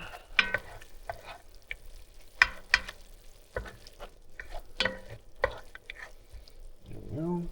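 Ground beef sizzles and fries in a pot while a spoon stirs it, giving repeated scraping clatters over a soft hiss, close and moderately loud with no talking.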